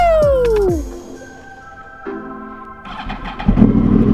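A Yamaha motorcycle starter whirs and winds down, then the cold engine catches and settles into a loud, rumbling idle close by.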